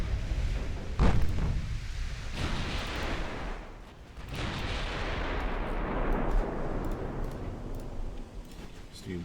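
Naval gunfire in a 1930s British naval campaign video game, heavy booming shots and rumbling blasts at intervals under a continuous roar, with a voice talking over it.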